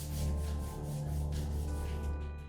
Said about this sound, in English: And here I'm just lightly sanding the edges of the roof ledge to hide the telltale lip of the foam board.